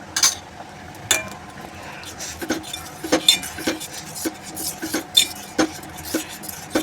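Salt, turmeric and red chilli powder added to a pan of drumstick and besan sabzi, with a run of close spoon taps, scrapes and clinks against the pan, irregular and fairly loud.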